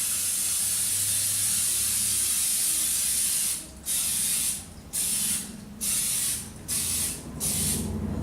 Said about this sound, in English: Spray your pan so it doesn't stick.